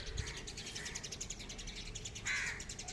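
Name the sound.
group of sparrows chirping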